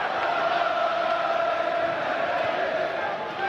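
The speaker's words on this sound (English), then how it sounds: "Terrific support from the Welsh crowd." A Welsh crowd at a boxing match cheers and roars loudly and steadily, a dense wash of voices in a large arena with no single voice standing out.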